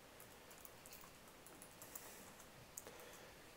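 Soft, quiet clicks of keys tapped on a computer keyboard in an irregular patter, faint and close with no talking.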